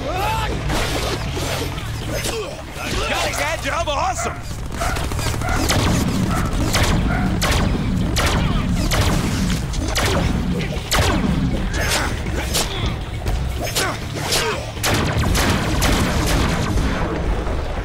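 Gunfire rattles at the player in the Deadpool video game, a series of sharp bursts and booms spread across the scene, mixed with mechanical clicks and clatter, with the player's voice exclaiming at the start.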